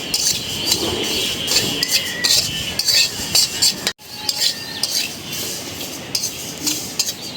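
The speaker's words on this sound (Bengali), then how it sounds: "কালি জিরাটা শুকনো কলায় ভাজতে হয়" Black cumin seeds (kalijira) dry-roasting in a pan without oil, a dense continuous crackle and rattle of tiny seeds with scraping stirs and occasional clinks, close and moderately loud, briefly dropping out midway.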